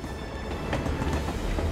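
A train rolls along rails in The Amazing Spider-Man 2 video game, giving a steady, loud rumble with faint rhythmic clatter and no talking.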